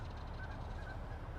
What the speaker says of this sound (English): If you hear these birds,